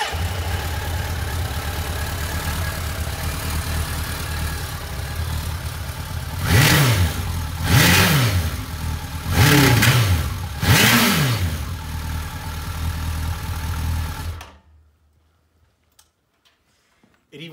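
A 1986 Suzuki GSXR-1100 motorcycle engine runs at a steady idle, then rises in four quick throttle blips before settling and cutting off abruptly into silence near the end, loud and close.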